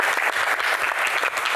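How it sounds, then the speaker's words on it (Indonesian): Sustained, dense applause from a studio audience greeting guest star Titiek Puspa, loud and continuous with no talk over it. "langsung saja kita berikan tepuk tangan sekali lagi yang paling meriah untuk bintang tamu kita"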